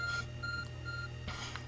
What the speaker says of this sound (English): Ooh, your ARC phone is beeping.